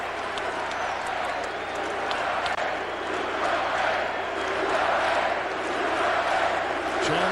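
Capacity basketball crowd packed into McKale Center in Tucson for UCLA at Arizona, a steady, dense roar of voices and cheering that swells slightly toward the end, with no clear pauses.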